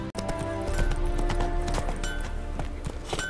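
Horse hooves clip-clopping at a trot in The Witcher 3, a steady rhythmic beat of hoof strikes over continuous game music, close and prominent.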